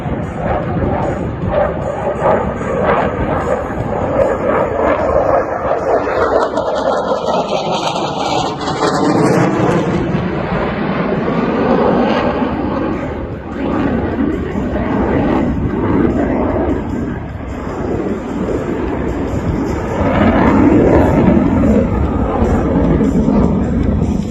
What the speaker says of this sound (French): cet avion mythique. Que dis-je, cet avion légendaire, le Rafale